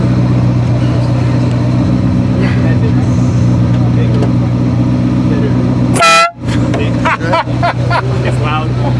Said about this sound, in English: This is the old air horn.